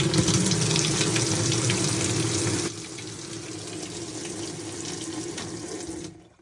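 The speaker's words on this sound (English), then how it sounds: "And now it's letting water in." Water rushes steadily into a GE top-load washer, model GTW460ASJ, which has a fault that stops it washing and spinning. The filling is loud and close, a hissing flow that drops in level partway through before cutting off.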